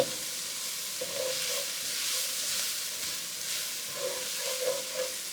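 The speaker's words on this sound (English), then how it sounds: "let that flour cook a little bit to get that raw taste out of it" Flour and fat cook in a hot pan for shrimp and grits, a steady close sizzle and hiss with occasional soft scraping strokes from stirring, no voices.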